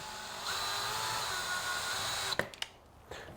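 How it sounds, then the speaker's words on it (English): A power drill driving 40mm stainless steel screws into the side panels of a wooden barn owl nest box, a close steady whir that stops, followed by a few clicks and knocks. "For screwing the side panels onto the nest box, we use 40mm stainless steel screws."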